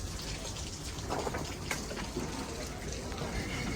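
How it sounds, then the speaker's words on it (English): Steady rain falls in Vancouver, a continuous hiss of drops spattering on surfaces close by, with someone talking briefly over it from a shelter. "All right, it's raining, man."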